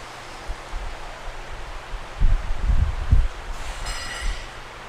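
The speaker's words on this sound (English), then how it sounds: "You probably hear my fan in the background just humming away" An electric fan hums steadily in the background, a constant airy whir. A few louder low rumbles and handling bumps rise briefly over it midway, with no one talking.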